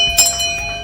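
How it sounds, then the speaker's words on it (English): A short bright bell-like chime rings once, clear and close, with a sustained tonal shimmer fading quickly under faint background noise. "ring that notification bell"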